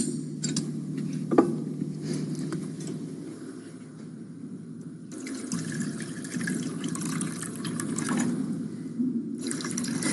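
Water is poured into a Moroccan meat tagine with prunes, a close, soft gurgling stream that swells and eases over several seconds. No one speaks over it.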